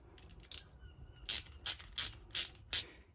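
Worm-drive jubilee clip being tightened onto flexible pipe in a van build, giving five or six quick ratcheting clicks in a close, fairly quiet bursty rhythm with no talking.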